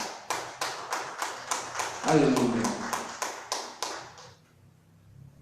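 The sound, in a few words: church congregation clapping for the Lord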